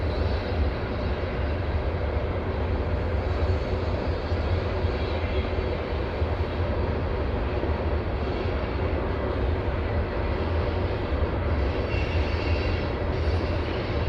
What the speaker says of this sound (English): It looks like a coal train